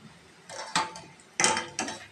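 A metal ladle clanks and scrapes in a frying pan while turning over frying boondi for motichoor laddu, a few distinct bursts of clatter close by, with quiet gaps between them.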